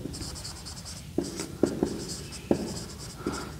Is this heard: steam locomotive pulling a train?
no